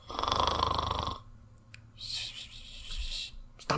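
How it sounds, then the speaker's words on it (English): A loud, rasping snore comes from close by, followed by a pause and then a softer, breathy exhale. "Stop snoring."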